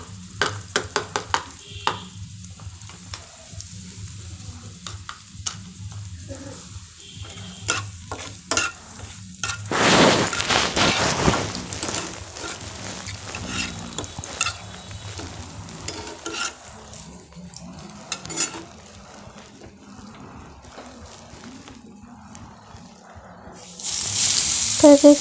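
Garlic frying in a pan until brown, a close crackling sizzle with repeated scraping stirs, a louder burst of spitting partway through and a sharp hiss near the end.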